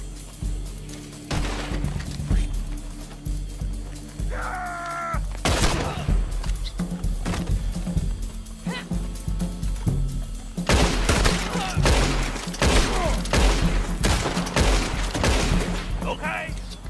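Repeated gunshots ring out in the Red Dead Online western video game, several loud sharp cracks and a few close bursts in the middle and many heavier shots near the end, over game ambience with voices talking in between.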